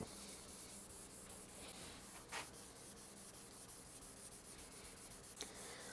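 Guitar body being sanded by hand with 2000 grit sandpaper on a small round block, a faint, steady, close rubbing hiss with a couple of slightly sharper strokes, no voices.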